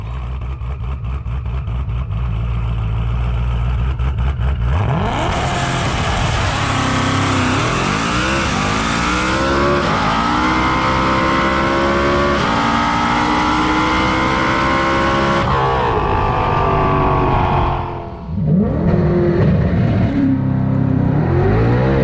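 A 2020+ Ford Shelby GT500 with a dual-clutch transmission roars loudly through third gear, the engine pitch climbing steadily under hard acceleration, dipping briefly at a shift, then surging again.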